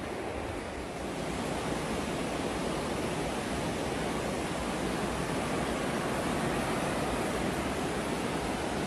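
River rushing through a deep valley, a loud, unbroken broadband roar of flowing water close by with no voices, steady from start to finish.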